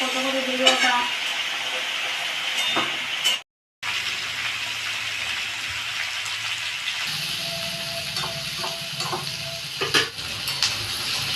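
Vegetables fry in a pan with a sizzle under scattered clinks of utensils against the pan, and a short cut of silence partway through.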